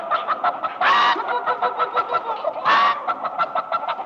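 A man imitates a chicken, giving a steady run of rhythmic clucks broken by two louder, drawn-out squawks, close and clear with no other voices.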